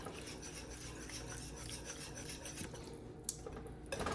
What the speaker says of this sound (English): You're just gonna wanna get that all whisked together and get that as small as you can.